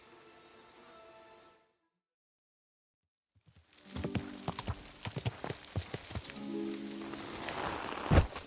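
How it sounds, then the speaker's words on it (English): Hooves of a black horse clopping on the ground in Kingdom Come Deliverance 2, a steady walking rhythm that begins after a short silence, near and moderately loud with light rustling around it. "You're just an ordinary horse."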